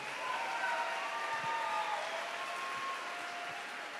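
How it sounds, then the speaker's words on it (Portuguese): A church congregation applauds during an afternoon worship service, a steady, dense wash of clapping that holds at even loudness for the full four seconds with no voices rising above it. "Dá uma salva de palmas para Jesus"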